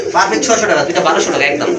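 Large pigeons at a pigeon sale coo softly and repeatedly in the foreground, mixed with someone talking over them the whole time.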